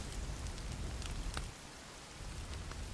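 Steady rain pours down in the video game The Forest with a dense, even hiss, briefly easing for a moment before resuming at full strength.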